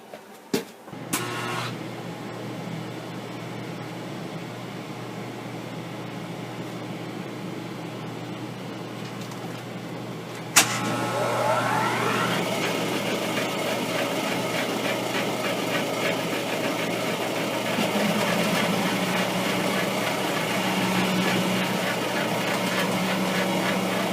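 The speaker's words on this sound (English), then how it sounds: "fire up the phase converter, fire up the planer, and start shaving this down" A Rockford universal shaper planer powered by a phase converter, shaving a wooden scrap straightedge: a click and low hum, then a sudden thump as the machine engages into a steady loud mechanical drone with rising whine, no talk.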